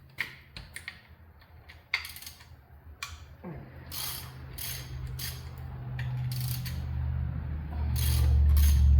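A ratchet clicks in short bursts while loosening motor mount bolts on a Chevrolet 5.7 liter 350ci engine in a service truck, faint scattered clicks, then a steadier low mechanical rumble builds toward the end.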